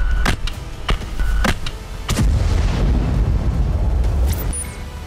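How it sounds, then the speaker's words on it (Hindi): A series of sharp, loud blasts and cracks, several in quick succession, followed by a rumbling roar, like a heavy explosion in combat: a tank hit by an explosion in Gaza. "टैंक में जोरदार धमाका हुआ"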